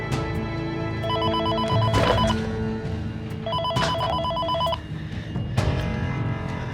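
A telephone bell rings in two loud, close bursts of trilling rings separated by a short pause, with faint background sound and little talk, in a Turkish drama scene.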